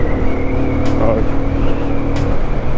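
A Haojin Rico HJ150-28 motorcycle engine revs steadily at high RPM while being ridden, a loud continuous drone with wind noise and a voice speaking over it.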